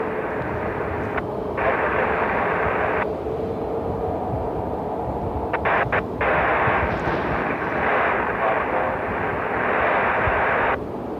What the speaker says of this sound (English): we got a United 737 MAX taxiing